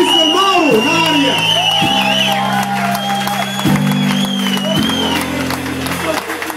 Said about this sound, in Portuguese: merece muito mais palmas